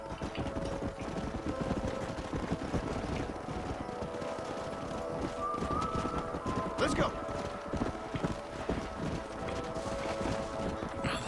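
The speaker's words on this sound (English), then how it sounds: "these horses are much harder to herd" Horses galloping while being herded in Red Dead Redemption, a fast continuous clatter of hooves with an occasional whinny, while someone shouts commands over the herd.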